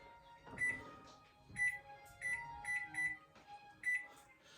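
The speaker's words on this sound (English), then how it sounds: "So let's do a timer." A kitchen timer being set while cooking, about seven short electronic beeps at uneven intervals, clear and close.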